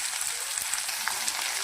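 Chopped onion and green peas sizzle steadily in hot oil in a pan while cooking a pea pulao, a soft, even hiss with small crackles and no voices.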